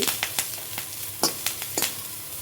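Chicken wing ingredients sizzle softly in a frying pan, with steady frying hiss punctuated by several sharp clinks and scrapes of stirring.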